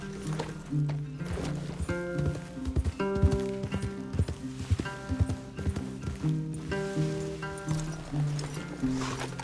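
Horse hooves clop in an uneven trotting rhythm over a steady musical backdrop in the video game Red Dead Redemption 2.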